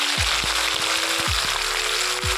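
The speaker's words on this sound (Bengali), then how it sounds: "হলুদ নুন দিয়ে ভালো করে ভেন্ডিটাকে ভেজে নিচ্ছি" Okra fries in hot oil seasoned with nigella seeds, turmeric and salt, a loud, constant sizzle with a few sharp knocks of a spatula stirring the pan, no voices.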